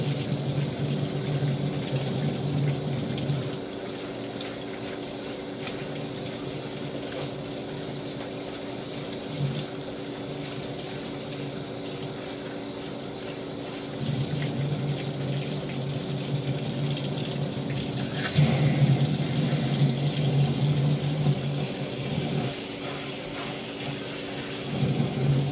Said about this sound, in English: we're gonna wash this body out now.